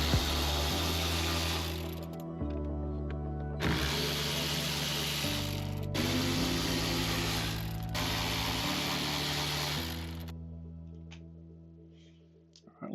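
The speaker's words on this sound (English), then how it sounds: "these are 4 10mm bolts we'll need to remove" Ratchet wrench turning out 10mm bolts from a truck's head unit, giving repeated bursts of fast mechanical clicking separated by brief pauses, close and clear with no voices.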